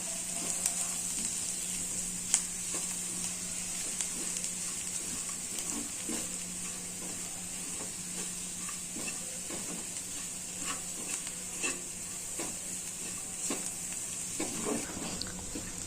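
Grated coconut with turmeric and chili powder fries in hot oil, giving a steady, soft sizzle and hiss with small crackles and occasional faint stirring clicks, and no voices.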